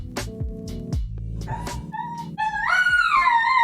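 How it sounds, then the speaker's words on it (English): A pet dog yips and whimpers excitedly in rising, high-pitched bursts at close range, growing louder and more continuous as the owner's wife arrives home, heard over a running Old School RuneScape game at a mining spot. "My dog is crazy because my wife just arrived."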